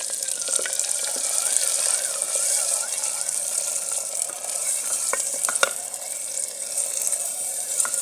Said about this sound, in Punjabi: ਕੁੰਜਾ ਗਰਮ ਹੋ ਕੇ ਇਹ ਵੀ ਭੁੱਜਣ ਲੱਗ ਗਿਆ ਤੇ ਹੁਣ ਆਪਾਂ ਮਸਾਲਾ ਪਾਵਾਂਗੇ ਕੁੱਟਿਆ ਹੋਇਆ